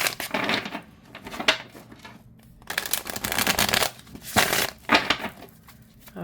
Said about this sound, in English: Overhand shuffle.